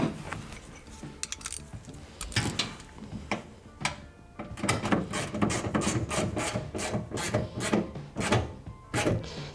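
Tightening a fitting back into place on a Triumph TR6 during a fuel pump conversion: a run of close, dry metallic ticks and rasping turns, repeating in quick irregular bursts with no talk.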